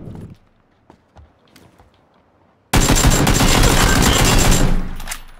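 Sustained automatic gunfire in the video game PUBG breaks out after a quiet stretch of faint clicks and footsteps, a loud rapid burst lasting about two seconds before tapering off.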